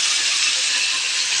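Raw fish frying in a home kitchen gives off a loud, steady, close sizzle that holds level throughout.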